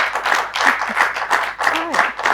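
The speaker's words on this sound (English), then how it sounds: "Can we clap for this all are amazing born woman, talented." A crowd applauding steadily throughout, dense clapping that swells and dips slightly, fairly close and loud.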